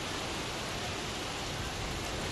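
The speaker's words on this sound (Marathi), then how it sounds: "गोरेगावमध्ये सध्या तुफान पाऊस सुरू आहे।" Heavy rain pours outside Goregaon station in Mumbai during a thunderstorm, a dense, steady roar of water that fills the whole stretch evenly with no break.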